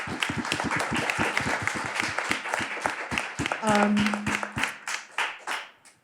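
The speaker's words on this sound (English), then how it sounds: "So I just want to give them another round of applause." Audience applause at a talk on intersectional media portrayals, dense rhythmic clapping from a room of people that fades out over several seconds, with a brief cheer partway through.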